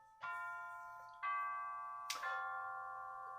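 Indoor clock chiming the hour, three clear bell-like strikes spaced about a second apart, each ringing out and decaying slowly, heard alone in a quiet room.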